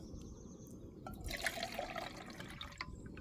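Water being poured into a food package on a day hike at Cane Creek Mountain, a faint close trickle and gurgle against low outdoor background noise.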